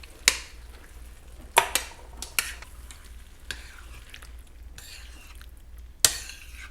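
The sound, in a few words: diced tomatoes added to a pan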